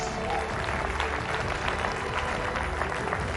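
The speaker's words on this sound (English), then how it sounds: "Ladies and gentlemen, please put your hands together" Audience applause at the News18 Rising India Summit 2023, a dense, steady wash of clapping from a large crowd, loud and continuous throughout.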